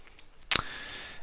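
Keys on a graphing calculator are pressed: a few faint light taps, then one crisp, closer click with a thin ringing tone lingering after it.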